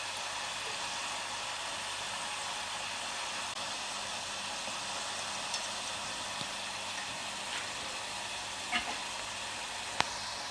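Peanuts fry in hot oil with a continuous, even hiss and sizzle, close and steady throughout, with a few faint pops and no voices.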